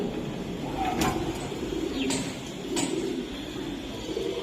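A male racing pigeon coos in repeated low phrases, close by, while occasional sharp knocks and scrapes sound through a steady background hum.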